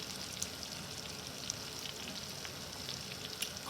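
Buttered Old Bay sauce sizzles steadily in a pan, a constant close frying hiss with faint crackles and no talk.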